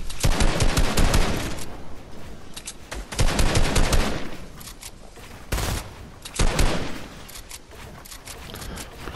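Sustained bursts of AK assault rifle fire in a Fortnite match, loud and close, coming in several long rattling volleys separated by brief pauses, with almost no talking.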